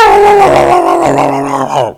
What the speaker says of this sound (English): hey, was that a dog? It's a big dog. Starts barking at him again.